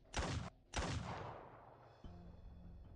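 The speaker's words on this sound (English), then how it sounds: "The sound of the gunshot fills the space" Two loud shotgun blasts in Arknights, each a sharp burst a half second apart, the second trailing into a long decaying echo before a low tone begins.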